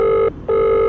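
A phone rings in two loud, close electronic tone bursts with a brief gap between them, clear and alone.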